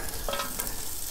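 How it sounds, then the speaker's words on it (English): Bacon sizzles loudly and steadily on a hot griddle beside piles of onions for a burger, a close, dense hiss and crackle that never lets up. "I'm gonna add the bacon over here"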